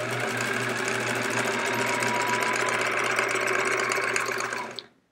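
A sewing machine stitching binding onto a sampler quilt, a close, steady rapid whirr and rattle that runs continuously, then winds down and stops.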